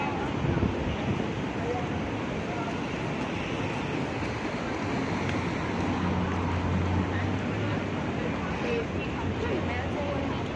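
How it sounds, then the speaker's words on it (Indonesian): Cold wind roars steadily across an open crossing, a dense broadband rush with gusts and some low rumble underneath, close and continuous for the whole stretch. "Wah, angin dingin."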